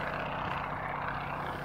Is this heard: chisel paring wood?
no